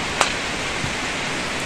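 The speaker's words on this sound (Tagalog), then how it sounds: "Nag-uulan, sobrang lakas ng ulan." Heavy rain pours steadily outdoors as a constant, even hiss with no voices.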